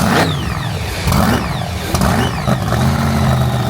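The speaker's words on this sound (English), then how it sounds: "I got him to crank the vehicle up for me." A widebody Dodge Hellcat, cranked up and running nearby, roars loudly with several rising and falling revs over a rumbling idle.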